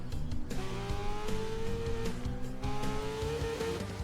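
A Honda CBR1000 SP sport motorcycle engine in the video game The Crew 2 revs high and sharp, its whine climbing in repeated surges, loud and close with no talking.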